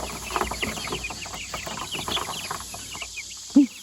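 Backyard chickens cluck and chirp inside a tipped-over tub, a busy run of soft, overlapping calls at close range, ending with one louder single squawk.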